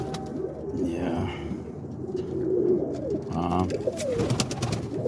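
Pet pigeons cooing in a loft, soft repeated low coos overlapping among several birds, with some rustling and a faint voice in the background.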